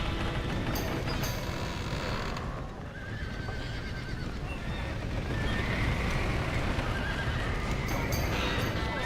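Horses in the Red Dead Redemption video game neigh and whinny while hooves clip-clop steadily, close and loud, over a dense continuous rumble of commotion with no clear talk.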